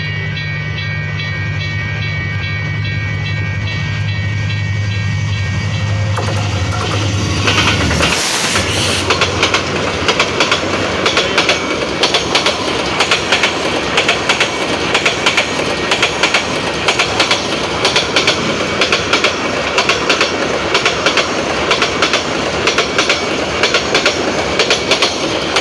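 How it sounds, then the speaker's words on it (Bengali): The fast Anandnagar Express approaches with a blaring horn, then thunders past close by, its wheels rattling in a loud rhythmic clickety-clack that continues steadily for many seconds. "খুব ফাস্ট ট্রেন।"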